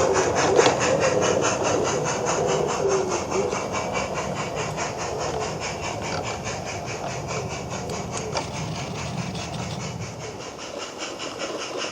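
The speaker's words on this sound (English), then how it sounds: "the train makes a hasty departure, aiming to try and make up some of the lost time" A Peckforton Light Railway train pulls away from a station with a continuous engine rumble and a rapid rhythmic clatter of wheels that carries on steadily and eases slightly toward the end.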